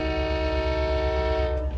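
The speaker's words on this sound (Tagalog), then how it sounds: "Na-tsempuhan pa tayo ng tren." A long freight train in Canada, its horn holding a loud, steady chord over a low rolling rumble of cars, close and constant throughout.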